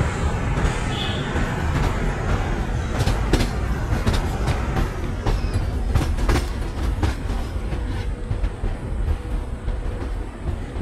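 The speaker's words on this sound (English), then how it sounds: "Our train is departed from the Chennai Central Railway Station." The Chennai–Nizamuddin Rajdhani Express with AC coaches running at speed, a loud continuous rumble with repeated sharp rail clicks and clatter as the wheels cross joints.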